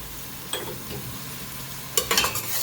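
Garlic and pimentos hit hot oil in a pan for a Trini macaroni pie, giving a steady soft sizzle with bursts of stirring and scraping near the end.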